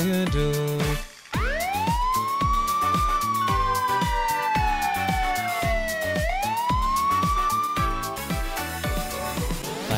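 A police car siren wails in long rising and falling sweeps over the rhythmic musical backing of a children's nursery rhyme song, loud and close throughout.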